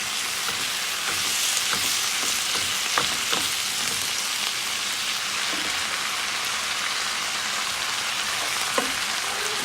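Chicken pieces frying and cooking down in a pan, a loud continuous sizzle with scattered pops and crackles throughout, no talk.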